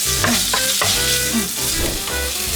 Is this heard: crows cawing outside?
no